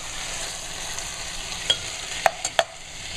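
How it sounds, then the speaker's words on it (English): Tomatoes with their juice are stirred into softened carrots and garlic in a pan for a yellow tomato sauce. A soft steady sizzle runs under a few sharp scraping clicks of the stirring utensil near the end. "now we're going to add our tomatoes. Make sure you get all the juice in there. Mix that in well."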